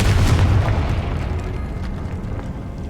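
A booming blast from the Confringo fire spell in Hogwarts Legacy erupts at the start, then rumbles and fades into a sustained low roar with scattered crackles.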